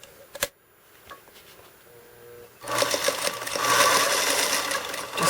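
A sewing machine runs steadily in a short burst of back stitching while finishing a quilt-as-you-go Angel Jewels quilt block, loud and close, after a quieter stretch of faint clicks and handling.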